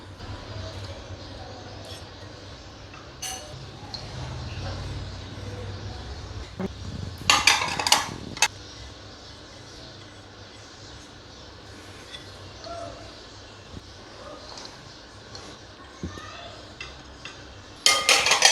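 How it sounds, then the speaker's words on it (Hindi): Chopped mixed vegetables stirred into pakora batter in a bowl, with a spoon scraping and clinking against the dish in bursts, a few sharper knocks in the middle and at the end, close up amid a faint kitchen background. "अब इन सारी सब्जियों को मैं मिक्स कर लेती हूँ।"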